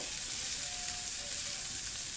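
Onions softening in a pan for a Bengali garlic bharta, giving a steady, even sizzle of frying that carries through the whole stretch at a constant level, with no voices over it.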